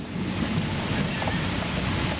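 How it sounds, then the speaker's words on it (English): Steady rain pours during a thunderstorm, a dense, even hiss with no clear thunderclap, close and constant throughout without speech. "Rain's just beginning."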